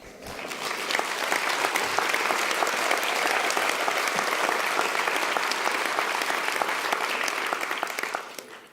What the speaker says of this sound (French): Vous pouvez l'applaudir, parce que c'est pas facile.